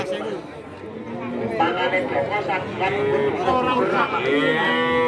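Cattle moo repeatedly at the busy Kajen cattle market in Pekalongan, Central Java, with several overlapping calls near and far and people talking in the background.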